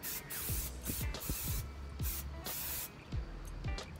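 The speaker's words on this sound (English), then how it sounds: "I hold it about, I'll say 6 to 8 inches away and spray" Several short hissing bursts of protector spray from an aerosol can misted onto a Dooney & Bourke leather bag from about six to eight inches away, fairly quiet and close, with brief pauses between the sprays.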